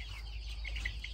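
Chickens clucking at a farm, faint short clucks and chirps scattered over a steady low rumble of background noise, with no voices.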